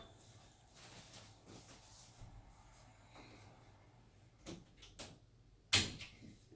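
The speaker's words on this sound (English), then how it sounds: "Shut my door this time" A door shuts with a single sharp thud near the end, after quiet rustling and soft movement in a hushed room.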